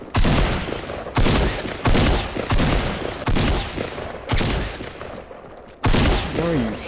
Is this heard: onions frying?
no